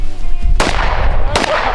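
Two sharp, loud gunshots from a gun fired outdoors at a shooting outing, spaced under a second apart, each a sudden broadband crack with a short ringing tail over steady background noise.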